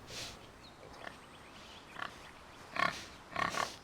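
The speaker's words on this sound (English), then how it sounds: "Pig!" A few short pig oinks in the video game Jade Empire come in separate bursts, fairly faint, with the grunts growing a little louder toward the end.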